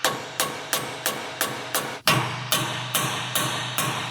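About a dozen sharp metal hammer taps strike a ball joint spreader on a twin-turbo diesel BMW at a steady rhythm, close and loud, each ringing briefly before the next.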